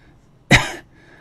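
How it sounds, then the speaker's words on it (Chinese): A man gives one sharp, loud cough, close and brief, with a short raspy tail fading into quiet. "猛地咳嗽了两声"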